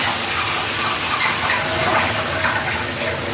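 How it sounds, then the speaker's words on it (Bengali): Water pours into a hot cooking pot of fried spices and Kashmiri chili for a chana matar curry, making a steady, loud gushing rush with hissing close by, with no one talking. "এবার আমি জল দিয়ে দিলাম এর মধ্যে"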